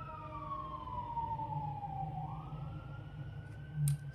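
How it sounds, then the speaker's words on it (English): A distant siren wails with a slow falling then rising tone, steady and moderately faint, with a brief rumble near the end. "Sorry about the sirens."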